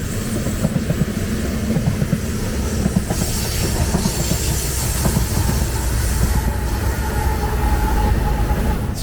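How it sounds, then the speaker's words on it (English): A freight train rolls past beside the Thompson River at Spences Bridge, a loud, continuous rumble with rhythmic wheel clatter and occasional squeal, steady throughout from near distance. "So that was the train, guys."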